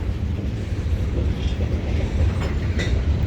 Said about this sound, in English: We've got a second train coming.